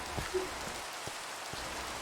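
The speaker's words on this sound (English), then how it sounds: "it's raining again" Steady Minecraft rain hisses evenly across the whole stretch, a soft, constant wash of falling drops with a few faint ticks and no voices.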